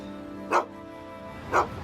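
A big, mean dog barks twice, about a second apart, each bark short and moderately loud over a steady soft background hum.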